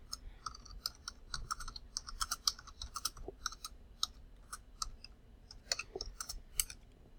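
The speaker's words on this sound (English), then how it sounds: "I'm just gonna type this out." Fingers tap quickly on a computer keyboard, irregular bursts of light plastic clicks close by and fairly quiet, with no voices.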